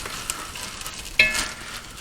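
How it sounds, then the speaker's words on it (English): Ginger, pepper, mint leaves and coriander stirred in a pan over medium heat, a soft steady sizzle with a sharper scrape of the spoon partway through. "We just give it a quick stir for about a minute"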